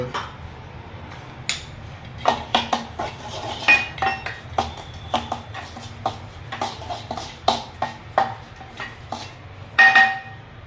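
Carrot and chilli raita masala mixed with a spoon in a bowl, giving sharp irregular clinks and taps of utensil against dish, close and fairly loud, with no speech.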